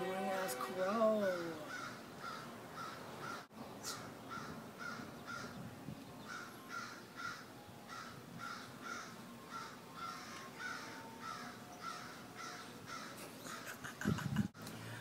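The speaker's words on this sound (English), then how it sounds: "it's an annoying ass crow" A crow caws repeatedly in a steady series of rhythmic calls, fairly close and persistent throughout, while a voice speaks briefly at the start.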